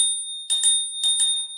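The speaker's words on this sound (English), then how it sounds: "we do have a bell, and I like this one because it's like a trigger" A trigger-style bell on an Eskute Polluno e-bike gives two quick pairs of bright metallic dings over a steady high ringing tone, close and clear.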